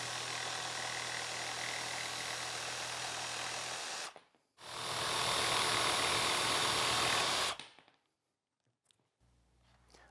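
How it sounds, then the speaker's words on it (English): A power jigsaw cuts through wood for a small Shaker bench, two sustained loud buzzing runs with a brief pause between, followed by quiet handling noises and a low hum. "I'll cut that away with the jigsaw real quick"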